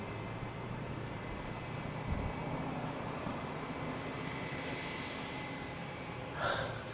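United Airlines Airbus A319 airliner at Toronto Pearson airport at night, heard as a steady distant engine roar that holds at an even level throughout, with a brief louder swell near the end.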